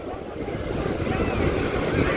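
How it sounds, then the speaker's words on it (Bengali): Ocean waves surging and washing in continuously on Puri beach in India, a loud, close rush of surf with wind buffeting the microphone. "এই আসছে ঢেউ"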